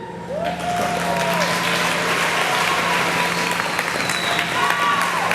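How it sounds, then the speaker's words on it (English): A graduation ceremony audience claps and cheers for family members, with steady loud applause, rising whoops and scattered shouts across the crowd. "give them a big cheer"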